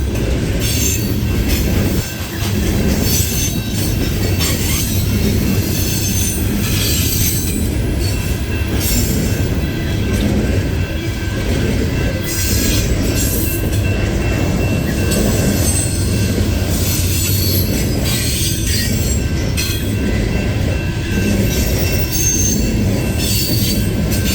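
A CSX freight train rumbles past continuously and loudly, with metallic wheel squeal and rattling cars throughout, no voices.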